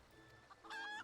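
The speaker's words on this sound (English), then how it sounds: "I tame a rooster and paint it green" Enkidu, a green-painted tamed rooster in Final Fantasy XIV, lets out a short, bright clucking call that swells near the end, close and alone over a faint background hum.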